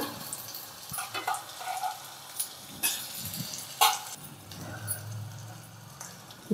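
Boiled potatoes dropped into a hot pan of oil fry with a soft, steady sizzle, broken by a few sharp spattering pops and clatters near the pan, with no voices heard.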